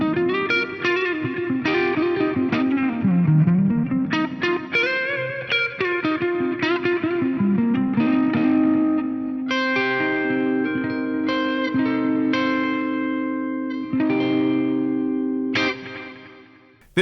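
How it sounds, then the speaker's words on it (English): Clean, noodly electric guitar played through an FM9 using a Band Commander amp model with DM2 delay and Opera House reverb, sustained chords and melodic lines with lush echoes and ambient tails, steady and upfront with no talking. "I'm using the Band Commander amp model, I'm using the DM2 delay, and I'm using the Opera House reverb"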